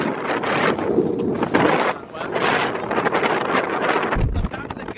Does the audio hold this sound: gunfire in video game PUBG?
no